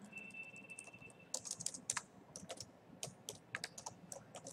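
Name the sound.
typing a statement on a computer keyboard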